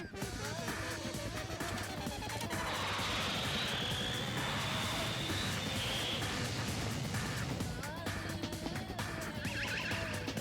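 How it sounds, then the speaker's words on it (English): An attack helicopter in Danganronpa 2 roars loudly and steadily with rotor and engine noise, swelling in the middle over a busy game soundtrack. "An attack helicopter?"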